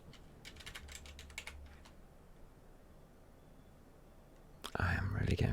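Quick bursts of keystrokes on a computer keyboard clatter close to the microphone, then pause before a louder clack and rustle at the end, with faint whispered speech.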